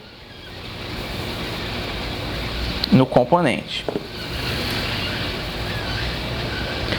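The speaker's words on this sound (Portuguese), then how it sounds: "E agora eu vou aplicar o soprador" A heat gun set to 320 degrees with reduced airflow blows hot air onto a circuit component to melt its solder: a steady, rushing hiss that runs throughout, with someone briefly speaking over it midway.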